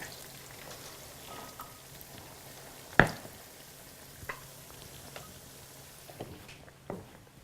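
Eggplant frying in a pan gives a faint, steady sizzle with scattered soft pops and crackles, one louder snap standing out midway.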